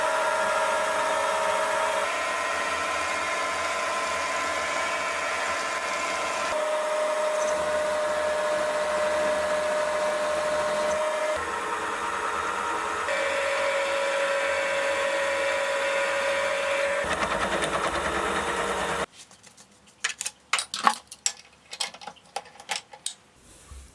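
A steady drill whirrs for about twenty seconds drilling holes in metal, close and moderately loud, then stops and is followed by scattered clinks and clatters of metal.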